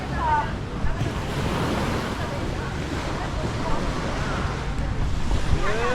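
Surf washes onto White Beach in Boracay, Philippines, a steady broad rush of waves with wind buffeting the microphone, heard up close while walking along the shore.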